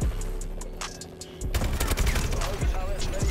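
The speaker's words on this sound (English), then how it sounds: "The gun sounds in this game are really weird." Rapid gunfire from Call of Duty: Advanced Warfare, sustained automatic bursts with sharp close shots and layered impacts, growing louder and denser in the second half, with game effects underneath.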